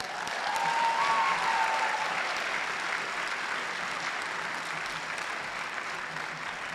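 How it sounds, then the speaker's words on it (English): Graduates are applauded at a spring commencement ceremony, steady sustained clapping from a large crowd forming a broad, continuous wash, with a brief whistle-like tone early on. "Give them a round of applause."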